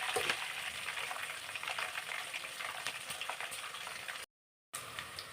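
Green chillies and curry leaves frying in hot oil for raw mango rice, giving a steady close crackling sizzle with light stirring and no talk.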